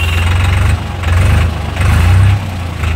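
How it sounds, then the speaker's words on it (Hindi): A 2024 New Holland 3630 Super Plus tractor with a changed silencer idles up close, a loud deep diesel throb that swells and dips in slow, uneven surges. "काफ़ी सॉफ्ट और क्रिस्प साउंड होने वाला है ट्रैक्टर का, काफ़ी शानदार ही साउंड करता है ट्रैक्टर।"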